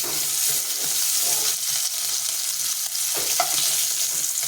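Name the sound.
fish frying in a pan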